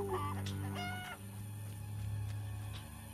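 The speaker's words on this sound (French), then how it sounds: "des oies" Geese honk and cluck in The Witcher video game, a few short nasal calls over a steady low hum of game ambience, fairly quiet and without talk.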